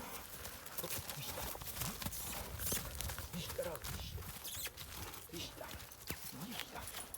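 Draft horses, a mare and a young colt, walking with hooves clip-clopping on a hard surface, steady and fairly faint, while people talk nearby.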